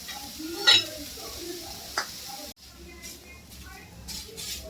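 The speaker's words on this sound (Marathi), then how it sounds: "कांदा चांगला मस्त भाजून घेऊया, कलर यापर्यंत।" Onion frying in a pan while a utensil stirs it, giving soft sizzling with a few sharp scrapes and clinks, and a quieter stretch after a brief break; a voice talks now and then over the cooking.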